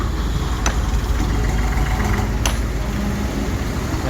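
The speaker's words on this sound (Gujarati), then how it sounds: "અને આરું ટ્રેક્ટર અહીં ચાલી રહ્યું" A tractor engine runs steadily on a rural road beside a broken rainwater channel, a rough continuous mid-to-low rumble with a couple of sharp clicks or knocks, close by, with no talking.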